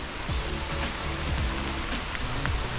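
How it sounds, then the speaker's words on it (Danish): Light rain falling during a hike near small waterfalls on Florianópolis, a steady soft hiss with faint drop patter throughout, some low rumbling in the background. "Det er desværre begyndt at regne lidt."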